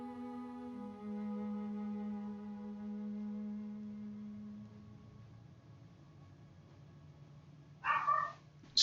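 Dogs bark near a home streaming setup, one sharp burst of barking late in the clip over a steady tonal background hum.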